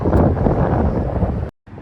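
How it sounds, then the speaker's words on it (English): Loud, blustery wind with rain buffets the microphone with a steady rushing roar, then cuts out abruptly near the end. "I really wish it wasn't raining and windy"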